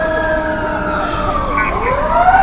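An ambulance siren arriving at a police emergency scene, a loud wailing tone sweeping up and down continuously, close and dominant over rumbling traffic noise.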